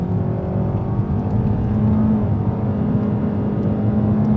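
A 2025 Kia K4 LXS with a dual overhead cam engine accelerating from inside the cabin, a steady, loud drone and whir that holds throughout without pause.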